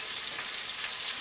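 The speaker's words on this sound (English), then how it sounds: "this is the time when we're adding our curry powder" Curry powder sizzling in a hot pan for vegetable curry, a steady, dense frying hiss, close and even throughout.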